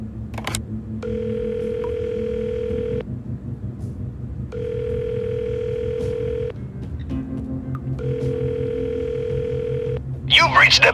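Telephone call being placed in a video game: three long, evenly spaced ringback tones sound over a low humming game background, with a short burst of other sound at the end.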